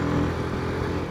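A Royal Enfield Himalayan 450 motorcycle engine pulls uphill through its gears on a winding Sardinian mountain road, a loud, close, steady droning exhaust note with wind rush and no voices.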